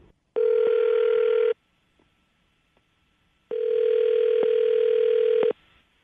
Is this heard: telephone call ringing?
yes